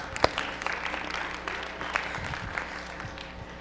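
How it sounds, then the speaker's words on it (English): Applause from a roomful of women at an afternoon session: scattered, moderately loud clapping from a crowd, with a sharp nearby clap at the start and a steady patter continuing throughout. "give yourselves a round of applause"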